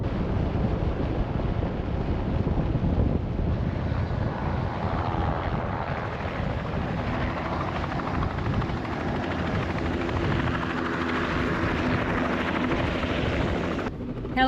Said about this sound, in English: Helicopter landing.